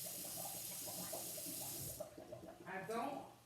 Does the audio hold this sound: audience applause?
no